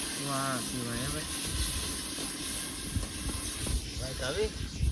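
Spices sizzle and hiss as they are tempered in hot oil for a fish curry, with people talking over the sound.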